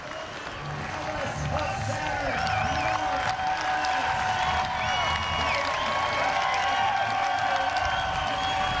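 Crowd applause and cheering for Norm Alvis, race and series winner at a 1997 Seattle Alki criterium bicycle race, a steady loud wash of clapping and voices outdoors across the whole stretch, with talk mixed in.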